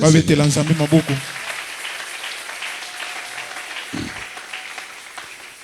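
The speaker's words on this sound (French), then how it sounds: "Qu'ils acclament alors." A church congregation bursts into cheering and applause, with loud shouts and voices at the start that fade into sustained clapping. The clapping continues at a steady moderate level to the end, with a brief low voice about two-thirds through.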